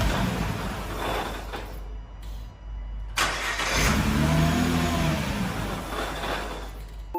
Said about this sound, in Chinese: 可没想到启动竟然又一次失败了。